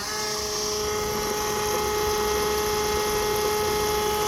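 A GPI transfer pump pumps waste oil on a GM truck project, giving a loud, steady electric motor whine with a strong constant tone that runs unbroken throughout.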